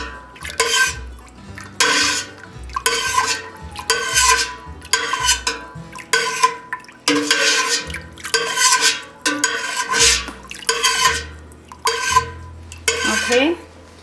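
A spoon stirs milk in a pot for mozzarella cheese with an up-and-down scooping motion, making a rhythmic series of a dozen or so loud, close scraping and clinking strokes against the metal, with no talking.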